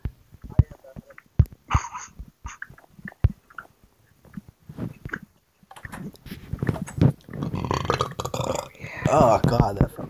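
Repeated loud burps from two people, short sharp bursts scattered through the first half, then longer drawn-out belches mixed with laughter and voices toward the end.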